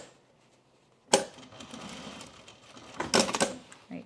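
A sewing machine bastes across the top of a pair of men's jeans in two short bursts of stitching, the first near one second and a louder, busier run around three seconds, with quiet handling between.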